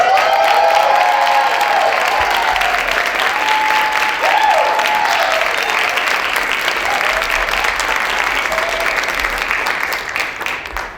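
A large audience at a school champions celebration breaks into sustained, loud applause that fills the room, dense clapping with a few cheers mixed in, easing off only in the last moment.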